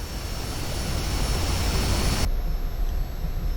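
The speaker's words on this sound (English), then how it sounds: "I'm going to raise the throttle" The jet engine of a Pakistan Air Force F-86F Sabre running as the throttle goes up, a loud, steady, broadband roar that holds even, then turns suddenly duller and thinner near the end.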